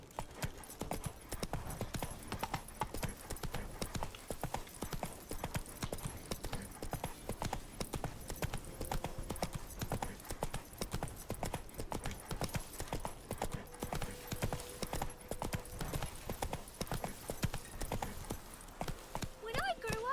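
Roach, a horse in the video game Witcher 3, gallops steadily, a rapid, even clip-clop of hooves running throughout, with faint voices and ambient game sound beneath.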